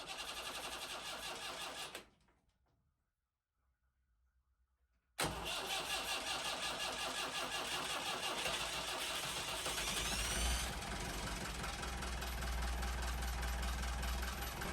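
A repaired boat diesel engine runs, cuts out into near silence, then cranks and catches, settling into a loud, steady chugging idle close by. The engine still has a white-smoke fault.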